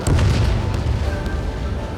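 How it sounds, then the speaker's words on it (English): A missile launch in the video game Lost Kingdom: a loud, dense booming roar that bursts in at once and then holds as a steady rumbling rush, with no voices present. "Strider 1, missile launched"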